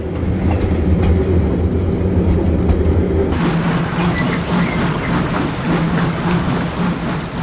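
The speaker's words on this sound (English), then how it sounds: "as the steam engine passes" A steam locomotive rumbles past close by in New Zealand, then the sound shifts abruptly to a brighter clatter of wheels and rushing noise as it goes by.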